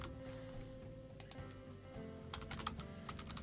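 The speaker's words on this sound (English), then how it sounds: "you can just simply type here, type in 1," Typing on a computer keyboard, a few quiet scattered keystrokes in short clusters over a steady low background hum, close and soft.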